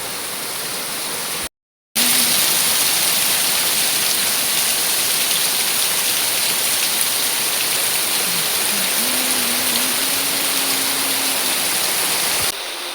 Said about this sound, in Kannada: ಅಷ್ಟು ಚಂದ ಮಳೆ ಬರ್ತಾ ಉಂಟಾಯ್ತಾ